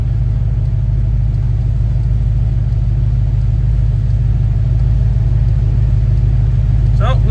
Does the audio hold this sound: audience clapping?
no